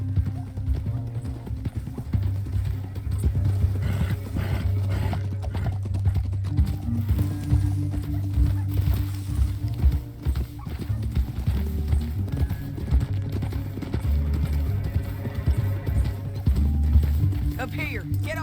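Horses gallop in the video game Red Dead Redemption 2, their rapid clip-clop hoofbeats running continuously and close, with an occasional whinny and voices talking over them.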